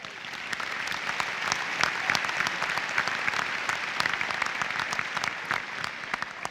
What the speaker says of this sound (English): We need to give our alma mater another round of applause.